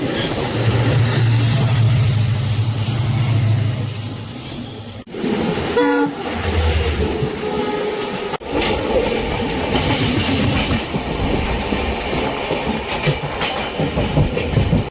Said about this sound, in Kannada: train number 16989 KSR Bengaluru Sangli Rani Chennamma express ಅಲ್ಲಿ ಇವತ್ತು ನಾನು ಟ್ರಾವೆಲ್ ಮಾಡ್ತಾ ಇರೋದು